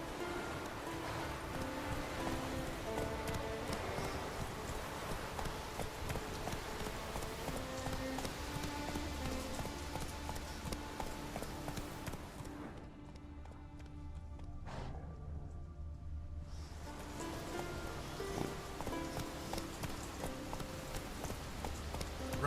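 Roach, the horse in The Witcher 3, gallops with a steady rhythmic clip-clop of hooves under a thick bed of game music and ambience. The sound drops briefly into a quieter stretch before the hoofbeats and music return.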